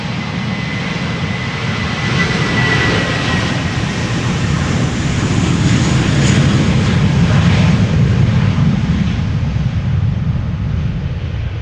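Jet airliner's engines roaring steadily during takeoff at Amsterdam Schiphol, a loud continuous broadband rumble that swells slightly mid-way, heard close with no voices.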